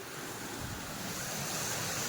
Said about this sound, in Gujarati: બહાર ધોધમાર વરસાદ ચાલુ થઈ ગયો છે